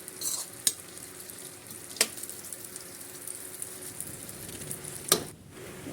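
A steady, quiet sizzle of dry fruits frying in ghee, with a few sharp clinks of a utensil against the pan.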